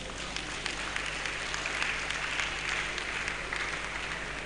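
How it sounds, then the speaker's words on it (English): An audience at a Nigerian building-institute event claps continuously, a soft, even spread of applause over a steady hum from the venue's sound system. "If you want to clap for him, you can clap for him."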